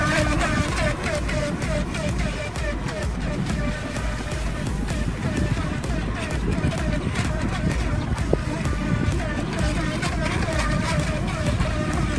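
A Feilun FT009 remote control speedboat, rated at 30 km/h, runs on the Saigon River with a steady, dense motor whine and water rush, mixed with heavy wind noise throughout.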